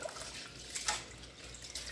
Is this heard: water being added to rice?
yes